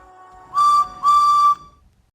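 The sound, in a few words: guard's whistle blown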